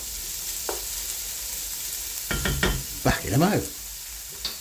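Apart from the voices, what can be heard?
onion and cumin seeds frying and being stirred in pan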